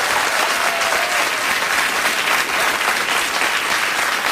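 Steady, enthusiastic applause from a late-night talk show studio audience fills the whole stretch without pause.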